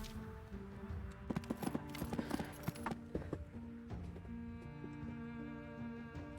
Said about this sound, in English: We're on a horse all of a sudden.